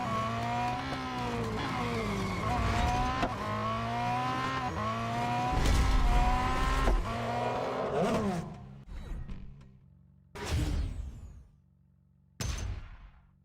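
Race car engine in Real Racing 3 revving through rising and falling gear sweeps, then broken by sharp tire squeals and abrupt bursts near the end, loud and close.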